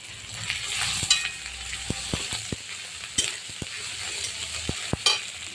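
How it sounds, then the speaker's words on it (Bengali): Ginger paste is stirred into tomato masala frying in a pan for a spicy tengra fish curry, a steady close sizzle broken by repeated sharp clicks and scrapes of the spoon against the pan. "আদা বাটাটা দিয়ে একটু নাড়াচাড়া দেবো।"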